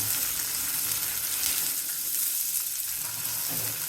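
Onion, garlic and tamarind sautéing in sesame oil for hibiscus flower thokku, a continuous close frying sizzle with faint stirring beneath it.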